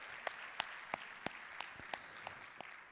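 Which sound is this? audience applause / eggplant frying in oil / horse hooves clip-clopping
audience applause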